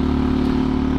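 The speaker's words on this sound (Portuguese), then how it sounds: "Porque o barulho da moto é legal, viu?" A 2007 Husqvarna SM610 fuel-injected motorcycle engine idles close by, a loud, steady low rumble with a continuous throbbing drone and no speech.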